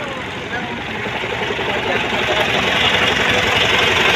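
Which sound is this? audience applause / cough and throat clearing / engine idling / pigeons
engine idling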